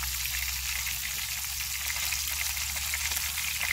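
Trout and mushrooms pan-fry with a steady, fairly quiet sizzle, a constant fine hiss that holds evenly throughout without pauses.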